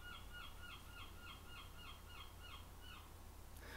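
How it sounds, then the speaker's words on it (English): A seagull outside in the Netherlands gives a rapid series of repeated squawking calls, about a dozen evenly spaced cries, faint and distant under a steady background hum. "We actually have seagulls that can interrupt your voiceover."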